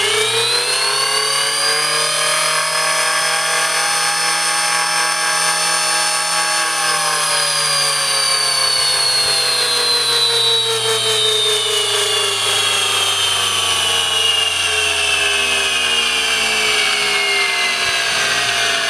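RC model electric motor running on a dyno, a steady loud high-pitched whine with dense harmonics that holds and then slowly falls in pitch as revs drop, heard alone.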